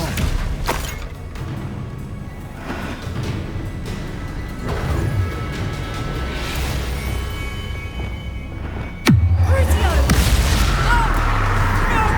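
Spell blasts from the Hogwarts Legacy video game, Exploso and Incendio, erupt amid a dense, rumbling battle mix with crashes and booms, then a sharp loud impact near the end gives way to a heavier roaring burst.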